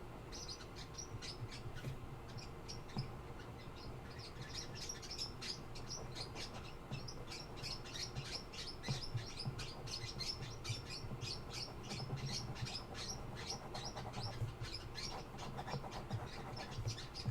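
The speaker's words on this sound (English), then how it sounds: "I think the birds agree with me." Birds chirping outdoors in a long run of quick, repeated high tweets, moderately near and fairly soft, over a low steady background hum.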